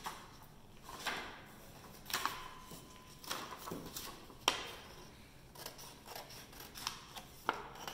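Scissors snip through paper close by, giving a quiet, irregular series of short crisp cuts and rustles with small pauses between them, and no one speaks.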